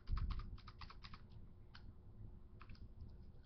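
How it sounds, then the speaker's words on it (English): Computer keyboard typing at a desk, a quick burst of light key clicks followed by sparse taps and a couple of spacebar or enter presses, faint and close, with no talking. "I click on it, and then I hit enter. I enter 6 spaces"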